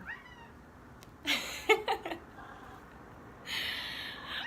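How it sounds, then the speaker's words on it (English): A tailless adopted cat meows in a short cluster of calls indoors, a few brief vocalizations close by, then a faint hiss-like breathy sound later with no talk. "I actually adopted a cat who is missing a tail."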